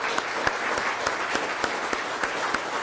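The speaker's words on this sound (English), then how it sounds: "how about a round of applause for our candidates here?" Scattered audience applause for candidates at the 2018 Hastings candidate forum, a small room's worth of hands clapping steadily at moderate volume, with individual claps standing out in a loose, even rhythm throughout.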